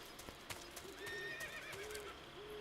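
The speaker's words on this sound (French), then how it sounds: "J'entends un cheval." A horse neighs and whinnies in Metal Gear Solid 3, with wavering high cries over a hoof clip-clop and a few sharp ambient knocks, no voices.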